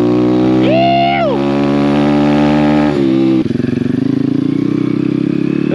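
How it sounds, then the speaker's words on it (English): Pit bike dirt bike engine revving hard while riding through insanely deep snow, a loud continuous motor drone with rising and falling revs, then a sudden drop in pitch as it bogs down. "Not normally riding the dirt bike up this."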